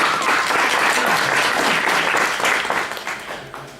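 Audience applause at a general meeting, a steady dense burst of many hands clapping close by that holds loud for about three seconds and then begins to thin and fade toward the end.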